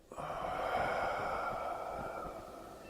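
One slow, steady exhale is breathed out during a seated breathing exercise, a soft, airy rush close to the microphone that fades gently at the end.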